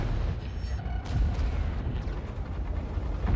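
Tank cannon fire in a video game, heard from a VZ-55 tank in battle, as a dense, continuous rumbling roar with booming low end filling the whole stretch and no clear gaps.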